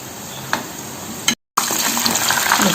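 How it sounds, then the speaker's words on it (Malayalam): Tapioca snack deep frying in hot oil, a steady close bubbling sizzle with stirring touches and a brief dropout midway. "അപ്പോൾ ഇത് പെട്ടെന്ന് തന്നെ ഇങ്ങനെ ഫ്രൈ ആയി വരുന്നതാണ്."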